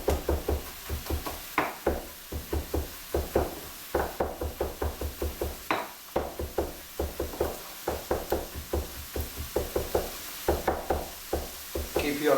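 Steady, rapid knife chops on a cutting board, a quick rhythmic tapping that continues throughout at close range.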